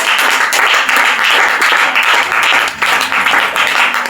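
A congregation claps at a church thanksgiving service, acclaiming the Lord. The applause is loud, dense and steady throughout, with no speech over it.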